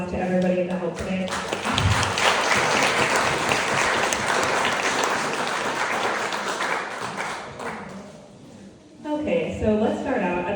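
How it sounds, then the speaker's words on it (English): An audience at a historical society spring meeting claps loudly and densely for several seconds, then the applause thins and fades out before a speaker begins talking at the end. "So if we could give one more applause to everybody that helped today."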